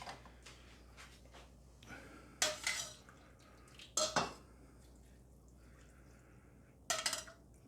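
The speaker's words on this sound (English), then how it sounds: "And now we'll get a ladle full of broth in there." Broth ladled into a bowl of pho noodles from an Aldi Vietnamese pho kit, heard as a few sharp clinks of ladle against ceramic with faint liquid trickling between them, moderately close and quiet.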